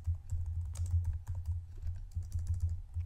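Rapid, steady keystrokes on a computer keyboard as a ChatGPT prompt is typed, close and clear with an irregular clicking rhythm, with no voices.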